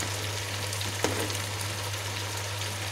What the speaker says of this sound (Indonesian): kalau dia sudah kuahnya mulai menyusut dan mulai mendidih besar, berarti dia telah matang